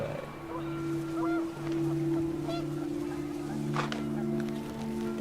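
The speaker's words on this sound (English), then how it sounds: "The wind picked up, and panicked geese appeared and quickly went." Panicked geese honk in the video game What Remains of Edith Finch, with a few scattered calls over a steady low tonal hum and gusting wind, at moderate distance and fairly faint.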